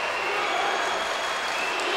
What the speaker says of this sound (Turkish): Sakarya İbrahim Büyükak'ı ayakta alkışlıyor.